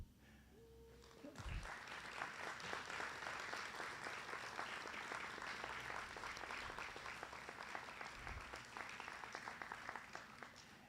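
At an Alpha Lambda Delta ceremony an audience applauds family members, sustained clapping starting after a second and holding steady, moderately loud, with faint voices at the start.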